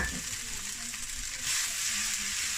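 Kimchi udon noodles frying in a pan while being stirred give a steady, close sizzle with soft scraping, and no voices are heard.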